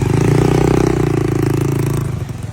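A Honda Beat scooter ridden on a flat tyre gives a steady, loud engine drone with a rhythmic clattering flutter, continuous for a couple of seconds before easing off slightly.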